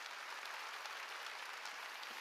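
A church congregation applauding during a sermon, a steady dense wash of many hands clapping together, continuous and fairly even throughout, with no voices on top.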